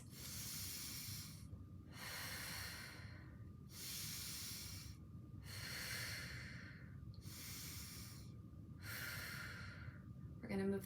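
Slow, steady breathing during a standing yoga pose: about five soft, even breath cycles repeat in a calm rhythm, close and fairly quiet.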